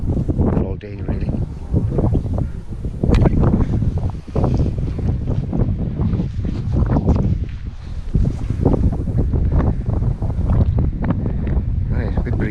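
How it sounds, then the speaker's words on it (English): Outdoor wind at a botanic garden gusts hard against the microphone, a loud, continuous rumbling buffet that rises and falls throughout with no calm gaps. "a bit breezy out here"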